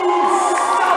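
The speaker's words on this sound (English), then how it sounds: "everyone applauds" A crowd at a men's Premier League basketball game roars and cheers loudly and continuously right after a game-winning shot, with shouts and whoops filling the hall.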